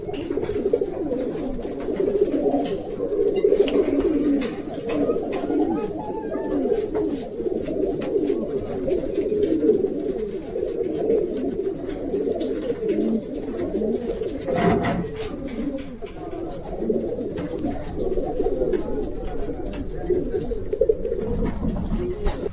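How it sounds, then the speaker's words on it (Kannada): Breeder pigeons in a Dharwad loft coo continuously, many birds overlapping in a low, rolling murmur at moderate level, with a few faint sounds of movement in the background. "ಇವೆಲ್ಲ ಬ್ರೀಡರ್ ಹಕ್ಕಿಗಳು"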